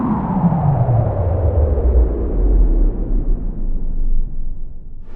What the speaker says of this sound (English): heard some thunder